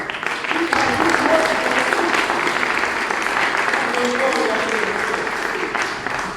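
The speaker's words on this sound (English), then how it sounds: "put your hands together for this illustrious orchestra" Concert audience applauding an orchestra at a reunion performance, dense sustained clapping across the hall with a voice speaking over it.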